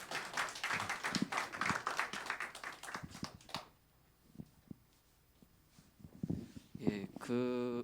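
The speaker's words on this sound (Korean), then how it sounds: "박수 한번 쳐주세요." A church gathering breaks into brisk, dense clapping and applause for several seconds. The clapping then thins to a few scattered claps, and a voice comes in at the end.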